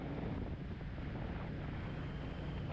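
Strong wind batters the microphone of a rider travelling down a road, producing a loud, continuous roaring rumble with no pauses and no voices.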